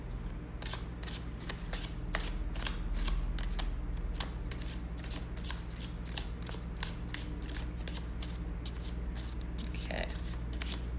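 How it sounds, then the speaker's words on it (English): Oracle card shuffling fills the clip: a steady run of quick riffling bursts from thin cards, close and continuous, over a low constant hum. "I can't rifle shuffle the oracle cards because they're so much thinner"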